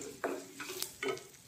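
Spices such as turmeric, cumin powder and coriander powder are briefly fried in a pan, with soft sizzling and a few scraping stirs of a spoon against the metal, heard up close in a quiet kitchen.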